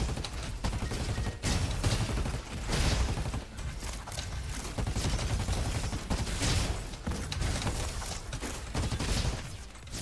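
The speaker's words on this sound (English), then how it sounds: "it's a frickin' machine gun" Rapid, sustained machine gun fire in the video game RoboQuest, a loud and continuous rattle of shots with mechanical clatter and brief pauses between bursts, with no voices.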